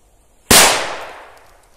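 A Maxsem P500 firecracker goes off with a single sharp, loud bang and a long hissing crackle that slowly fades after it, with no voices.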